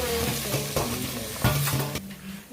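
Chilli powder, salt and turmeric being stirred into a sizzling tomato pakodi curry in a pan, with a steady frying hiss and a few louder spoon scrapes against the pan, close and with no talking.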